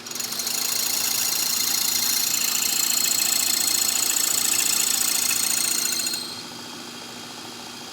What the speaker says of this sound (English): the foot is now set up in the drill press, ready with the mortise and tenon